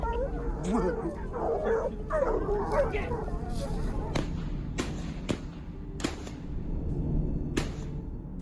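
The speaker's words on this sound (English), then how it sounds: "Trained to bark persistently upon detecting wild boars" Hunting dogs on a wild boar hunt bark and yelp excitedly, several sharp barks in quick succession, with a voice talking over them and outdoor background noise.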